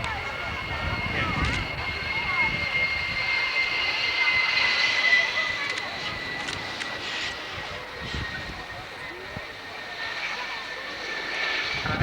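A heavy F-111 Aardvark swing-wing jet at a 1991 airshow at Alconbury rumbles steadily in the distance, a continuous broad engine roar with a high whine, while a commentator talks over it throughout.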